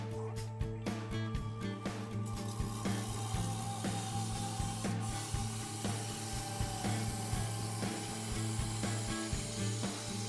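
A maple bowl spins on a wood lathe at 1000 RPM, giving a faint, steady motor hum with a low drone and light rhythmic rubbing and scraping from the workpiece.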